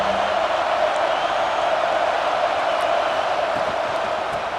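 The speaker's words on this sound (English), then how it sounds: "this home crowd is fired up and ready to make a difference today." A home stadium crowd roars in EA Sports College Football 26, a dense, steady wall of loud cheering that holds evenly without breaks.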